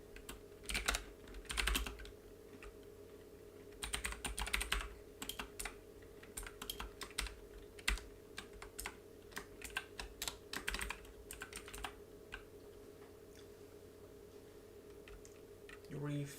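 Keys clatter in quick irregular bursts on a computer keyboard as someone codes a mobile space tower defence game, close and moderately loud over a steady background hum, with pauses between runs of typing.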